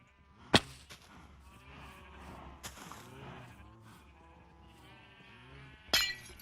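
Sheep in Minecraft bleat in a steady wavering run, with sharp game clicks and clinks near the start and end, and no talk.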